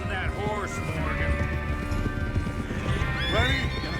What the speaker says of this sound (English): Get a hold of that horse, Morgan.